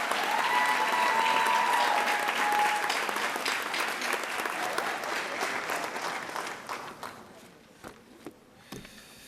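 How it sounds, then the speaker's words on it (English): An audience applauds young award winners at a youth awards ceremony in Monroe County, New York, with sustained clapping that gradually thins and fades to scattered claps by the end. "let's have another round of applause for all of our young citizens of excellence"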